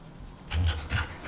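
Dog panting in the Deadpool video game, two quick breathy huffs close up, moderately loud, with faint background hiss.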